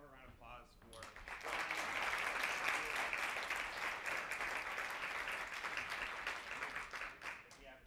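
Sustained audience applause at a college event fills the room loudly and steadily after a brief quieter opening, dense clapping continuing without a break to the end.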